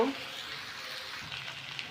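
Salted food frying in a pan, giving a steady, fairly quiet sizzling hiss close by with faint movement as it is turned, and no voices.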